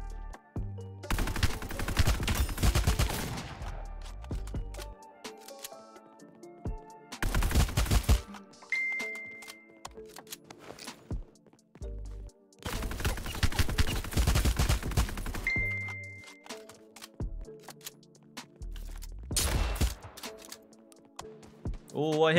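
Repeated bursts of automatic rifle fire, including an EBR marksman rifle, in an online multiplayer shooter game, loud clusters of rapid shots separated by short pauses, with a player talking over the action.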